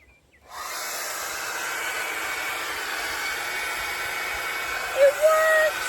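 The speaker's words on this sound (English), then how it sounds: "I want to try the blow dryer." An 1800-watt hair blow dryer switches on inside a converted 2024 Chrysler minivan powered by a portable power station, running as a steady close whooshing hiss with a brief whistle near the end.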